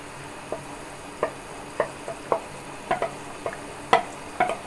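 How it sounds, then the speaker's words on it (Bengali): Egg and hilsa fish frying together in a wide pan of oil, a quiet steady sizzle punctuated by about a dozen sharp ticks and spatters spaced irregularly, close and fairly soft. "আসলে আমি এখন ডিম মাছ একসাথে দিয়ে দিলাম"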